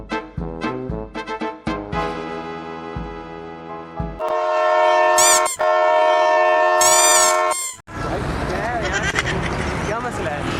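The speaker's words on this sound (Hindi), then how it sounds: "वो ट्रेन ने हारन बजाया, मैंने थोड़ी बजाया।" Loud train horn blasts played as a prank, sustained tonal honks with a brief break, preceded by rapid clattering and followed by a burst of noisy commotion, with people talking and shouting around it.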